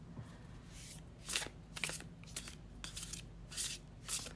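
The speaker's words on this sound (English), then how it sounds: "let's shuffle with intention" A deck of tarot cards is riffled and shuffled close up in a quiet room, with soft papery bursts coming every half second or so at an uneven rhythm.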